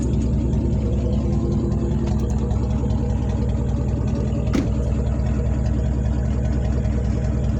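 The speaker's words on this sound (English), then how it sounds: "we done cranked the motor. That's how that Chevy sound. It's got a muffler delete on it." A 2002 Chevy Tahoe V8 with a muffler delete idles loudly and close by, a steady deep rumbling throb with a rough exhaust pulse that holds without change throughout.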